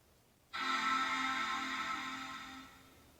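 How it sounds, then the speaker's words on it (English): An audio mixing console powers on with a sudden steady hum and hiss that holds for about two seconds, then fades slightly as it settles. "That's the sound of the board turning on."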